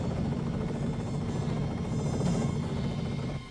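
Helicopter in a Tagalog-dubbed anime movie: a loud, steady whirring rotor drone with a deep low rumble, continuous throughout and easing slightly at the end.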